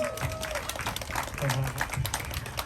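Audience applause at the Donkee Show in Houston, a crowd of steady clapping with voices mixed in, fairly close and moderately loud.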